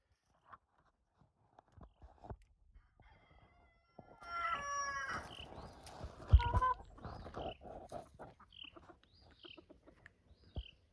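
A rooster crows loudly on a homestead, with scattered hen clucks and short calls before and after it against a quiet outdoor background.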